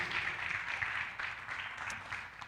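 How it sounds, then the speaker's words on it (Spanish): A church congregation claps together in a continuous, fairly even patter of applause, moderately loud and filling the room for the whole stretch. "Denle otro aplauso al Señor Jesucristo, así bien contentos y felices."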